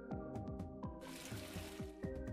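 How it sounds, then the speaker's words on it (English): A lawn sprinkler in a lawn mowing video game sprays water: a soft, steady hiss begins about a second in and continues over a looping, plinking game tune. "You could probably avoid the sprinkler if you really cared"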